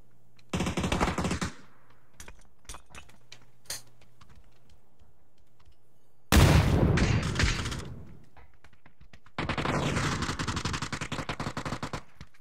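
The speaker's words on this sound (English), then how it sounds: "I feel like teammates are shooting me" Teammates fire guns in a video game, with three long sustained bursts of rapid automatic fire separated by quiet stretches broken by scattered single clicks and thumps.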